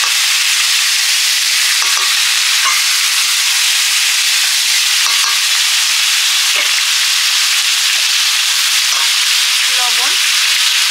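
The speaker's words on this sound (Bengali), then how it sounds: "মুড়োটা আরেকটু ভাজবো, আর সেই সঙ্গে জাপানি পুঁটিটা ভেজে নেব" Shol fish head and Japanese puti fish frying in a pan, a steady dense sizzle with spitting and crackle running the whole time, close and loud, with faint clinks in the background.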